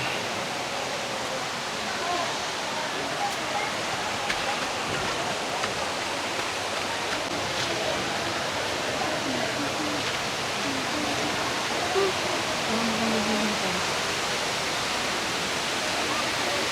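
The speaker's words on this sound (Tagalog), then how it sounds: "Ang ganda niya ilog, oh." River water flowing steadily at a resort day-tour spot, a constant broad rushing wash like a small cascade, close and even throughout.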